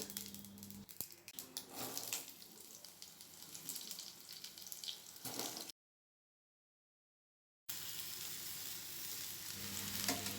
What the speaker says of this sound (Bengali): 5 ফোড়নটা খানিকটা ভেজে নিয়ে দিয়ে দেব কেটে রাখা আমগুলো